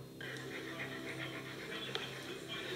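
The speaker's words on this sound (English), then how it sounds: "their dog suddenly starts to have a minor freak out" A frightened dog whimpers and pants steadily, with rapid rhythmic breathing and thin whines running throughout, close and fairly clear against a quiet indoor background.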